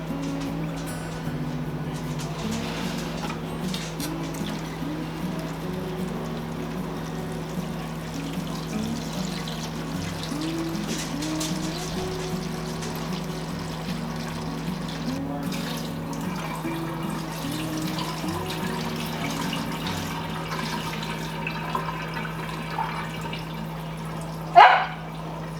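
Tap water runs and pours steadily into a channelled tray holding ranunculus corms, a continuous trickling wash close by, with a dog barking intermittently in the background and a brief louder knock near the end.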